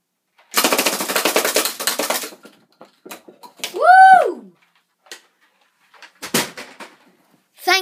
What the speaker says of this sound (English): I think we're ready to shoot the gun